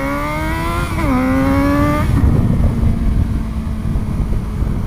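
A motorcycle engine revs hard during a ride, its pitch climbing and dipping, then settles into a loud, steady, close rumble mixed with wind noise.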